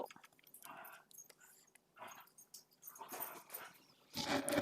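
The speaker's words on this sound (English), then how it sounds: "Who's growling?" A dog growls low and rumbling in a few rough bursts, with snuffling and chewing-like noises in between, fairly close and moderately quiet, with no talking.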